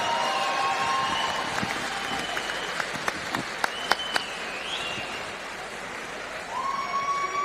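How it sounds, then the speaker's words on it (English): A combat-sports crowd at the Polaris 10 event applauds the champion after a bout, with loud, steady clapping and cheering throughout, several sharp claps standing out and a few whistles rising above the crowd. "Ladies and gentlemen, round of applause for your champion, Nicky Ryan."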